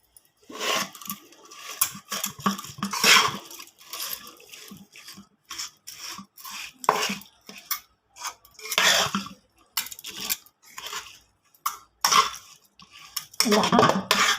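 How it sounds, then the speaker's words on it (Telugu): A spoon stirs cooled mustard-seed, dried-chili and curry-leaf tempering into ridge gourd chutney in a bowl, giving repeated close scraping and clinking strokes in an uneven rhythm, with no talking. "ఇప్పుడు ఈ పోపు చల్లారాక ఈ పచ్చడి తీసి ఇందులో కలుపుకోవాలన్నమాట"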